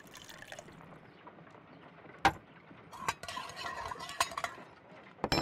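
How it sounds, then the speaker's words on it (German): Water is poured into a glass in a Sherlock Holmes video game, a soft trickling fill with clinks and splashes at the glass, quiet and close with nothing else over it. "Half a glass of water should be enough to create a plaster solution."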